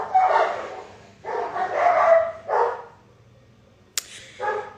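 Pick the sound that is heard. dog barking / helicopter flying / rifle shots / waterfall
dog barking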